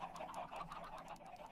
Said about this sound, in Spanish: Tiene que haber más de 1000 gallinas.